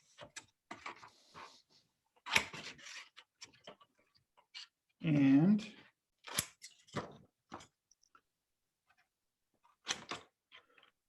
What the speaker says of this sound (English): these giant scissors, which are really fun to use because they make this